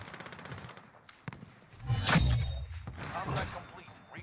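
Gunfire in Call of Duty: Warzone, scattered shots and a louder burst of impacts near the middle, with players talking over the action.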